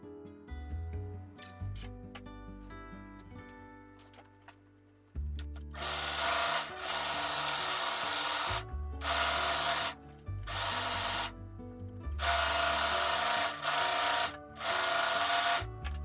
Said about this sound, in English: The sounds of the high-speed serger.